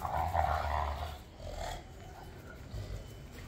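A dog growls low and rumbling in a few short bursts, close and fairly quiet, with brief pauses between growls.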